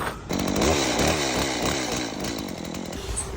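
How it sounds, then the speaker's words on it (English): A chainsaw rips through a timber beam at full throttle, a loud, steady buzzing roar with rhythmic pitch wobbles as the chain bites, continuing for a few seconds. "I'm just going to lop it off here with the chainsaw."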